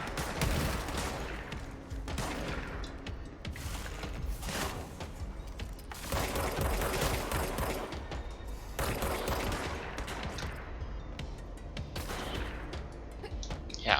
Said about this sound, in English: I'd like to know what just killed him, because it sounds like a bigger gun